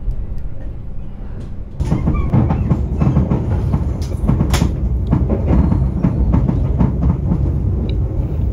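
The Lodaya passenger train runs on the Bandung to Yogyakarta route, with a quieter interior hum that jumps into a loud, continuous rumble of wheels on rail, broken by intermittent clicks and clatter.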